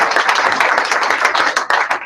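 A small group claps steadily and loudly together at close range, a dense patter of hands with no voices over it.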